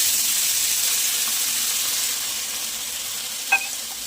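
Green chillies and chilli flakes sizzle in butter and garlic in a pan for paneer, a loud, steady frying hiss close up that eases slightly, with a brief clink of a utensil.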